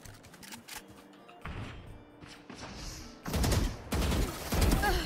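Gunfire in the Valorant video game: bursts of rapid shots that grow louder and denser toward the end, with thumping impacts and no talk.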